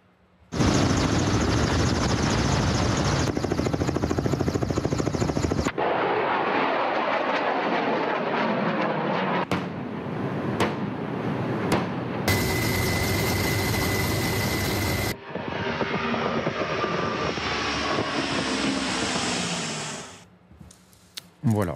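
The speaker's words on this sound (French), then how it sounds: "ça ce sont des avions qui ne sont pas de la toute dernière jeunesse" Russian military aircraft flying during a large naval exercise: a loud, sustained roar of engines that cuts abruptly between shots over about twenty seconds, with voices talking over it.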